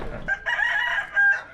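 A chicken crowing nearby, a clear drawn-out call repeated in short bursts, loud and close.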